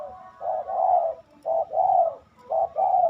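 A caged spotted dove gives three soft, mellow coo phrases in steady succession, each a short note followed by a longer rolling coo, close and clear against a quiet background.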